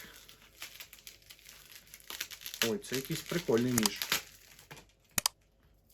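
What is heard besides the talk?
unwrapping parcel packaging with tape and bubble wrap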